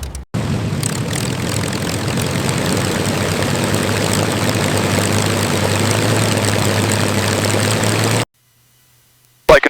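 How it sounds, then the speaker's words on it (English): Rolls-Royce Merlin V12 of a restored WWII P-51 Mustang fighter, salvaged from the sea, firing up and settling into a loud, steady, throbbing run for about eight seconds before stopping, up close. "The sound of the Merlin engine, nothing like it."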